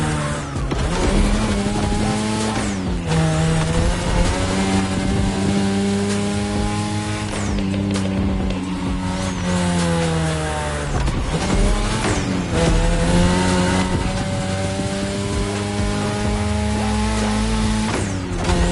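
A race car in The Crew Motorfest on a touge mountain run, its engine loud and close, revving up and down through gear changes while tires squeal through bends.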